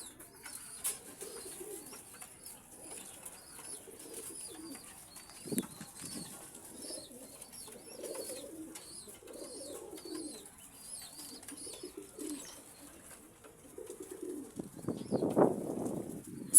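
Pigeons coo in a repeated low burbling rhythm, close and clear, with a brief flutter of wings near the end and no talking.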